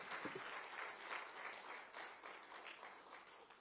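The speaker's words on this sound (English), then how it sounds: "A big round of applause for" Applause from an audience at a private sector CEO retreat, in honour of the Prime Minister, heard as steady, moderately distant clapping that fills the whole stretch.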